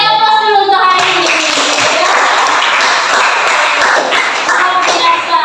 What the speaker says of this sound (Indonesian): kita kasih aplaus dulu untuk hari ini